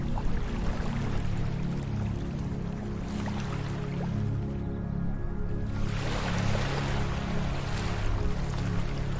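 Ocean waves wash onto a beach in a steady, soothing rush of water, with one surge fading before another swells again, no voices heard.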